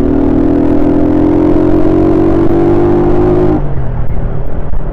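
On a road ridden by motorcycle, a car passes close, its engine drone steady and loud before dropping away abruptly, with wind rumble continuing underneath.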